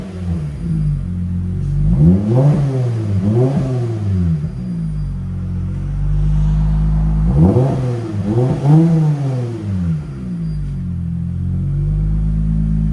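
A 2023 Lexus IS 350 with a 3.5L V6 and Flowmaster Flow FX exhaust idles with a deep rumble, then is revved hard in two separate clusters of sharp rises and falls, loud and close.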